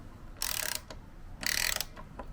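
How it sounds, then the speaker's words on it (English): A ratchet turns out an engine bolt on a Honda PC50 moped, with two close, loud bursts of rapid clicking separated by a short pause. "I hold the spanner onto it and use the ratchet to get it out"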